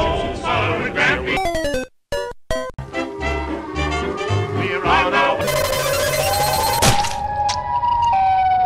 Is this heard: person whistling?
no